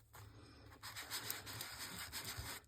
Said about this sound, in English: I have a little sanding block